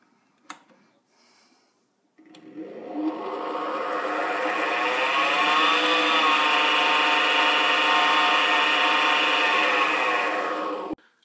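An LMS 5100 mini lathe starts up after a couple of quiet seconds and runs with a loud, steady whining motor drone that holds evenly for about nine seconds before cutting off abruptly.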